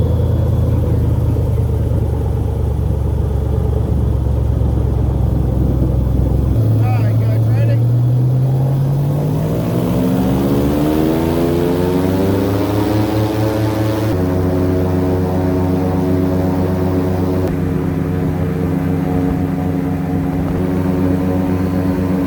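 An airboat driven by a 6.0 liter Chevrolet pickup truck engine roars loudly and steadily, revving up with a rising pitch, then holding a strong droning tone with propeller buzz, close and continuous.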